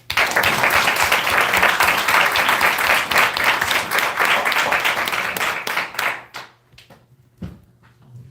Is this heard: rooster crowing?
no